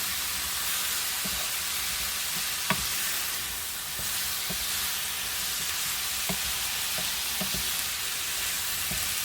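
Onions frying in a pan, a dense, even hiss of sizzling oil throughout with a few faint clicks and taps of stirring, nearby and without voices.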